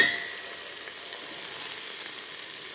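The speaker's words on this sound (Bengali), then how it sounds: "হালকা ভেজে নিতে হবে পেঁয়াজটা লাল হয়ে এসেছে" Onion frying lightly in oil with whole cumin seeds and turmeric, giving a steady, soft, close sizzle that holds evenly throughout with no voices.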